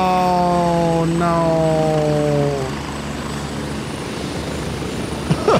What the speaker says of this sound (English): they got hit by the fucking helicopter